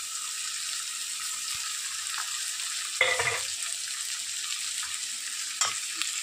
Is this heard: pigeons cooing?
no